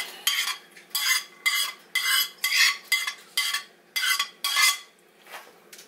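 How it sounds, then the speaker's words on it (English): A spoon scrapes and pushes BBQ ground turkey across a pizza crust in a series of short, close, rhythmic strokes, about a dozen scraping passes with brief pauses between them. "just take the back side of the spoon and just push it out"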